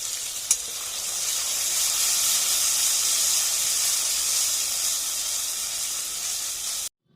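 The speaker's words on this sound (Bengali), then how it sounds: "যতক্ষণ না পর্যন্ত টমেটোগুলো গলে যাচ্ছে ততক্ষণ পর্যন্ত মশলাটাকে কষাতে থাকবো" Spice paste with tomatoes and turmeric fries in a pan: a loud, steady hissing sizzle runs throughout, with one short tap near the start, then cuts off abruptly at the end.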